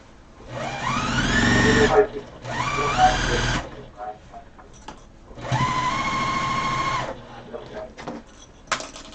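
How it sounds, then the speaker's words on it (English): A sewing machine runs a quarter-inch seam on a pillow in three whirring bursts, each speeding up and then stopping, with pauses and light handling noise between them. "let's get sewing this"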